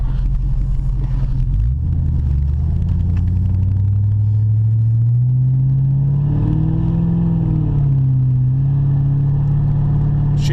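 A Brother Marquis car runs on the road with newly restored throttle response, its engine a loud, close rumble that climbs in pitch as it accelerates, then settles and rises again.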